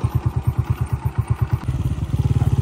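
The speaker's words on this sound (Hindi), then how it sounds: "अभी इसका रनिंग में साउंड चेक करेंगे आप" A 2024 Honda 125 motorcycle fitted with an aftermarket Goshi silencer thumps along with a deep, loud exhaust beat that quickens partway through as it picks up speed nearby.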